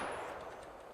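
Rapid gunfire from an AP pistol in a FiveM game sound pack, a dense continuous burst of sharp cracks at steady loudness across the whole second, with no talk.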